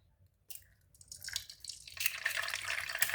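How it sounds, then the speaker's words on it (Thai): An egg frying in a pan for a Thai holy-basil stir-fry with fried egg, a crackling sizzle that builds from quiet to a steady, close, dense hiss with spattering pops and no talking. "ทอดไข่ดาวก่อนพี่น้อง"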